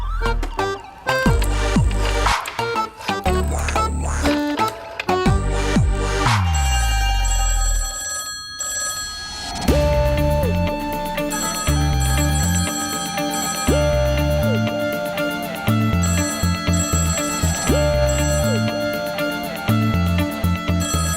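A telephone rings loudly in repeated bursts, then a run of electronic tones repeats in a steady pattern.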